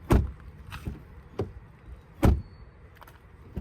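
A car door of a 2023 Nissan Qashqai e-Power shuts several times with dull, heavy thuds, spaced unevenly over a few seconds, followed by faint clicks.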